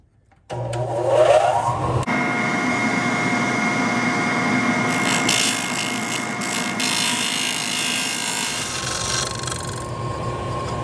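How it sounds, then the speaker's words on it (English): A power sander whirs continuously against a wooden pen spoon clip, a steady abrasive drone that shifts in tone partway through, with no voices. "Now I'm just want to touch up sanding that."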